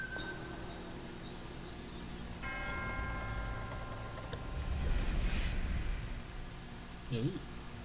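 A temple bell rings in the Black Myth Wukong video game, a sustained metallic tone that hangs and slowly fades under game music and ambience, with a brief voice near the end.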